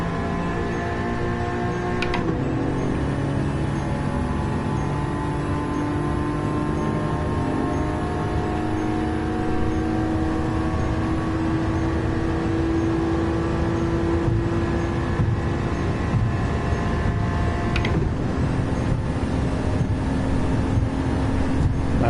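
In Gran Turismo 7, race car engines including a GR86 and a Supra drone and whine steadily through a race, with gear changes near the start and end and engine pitch rising and falling across the pack. No one speaks.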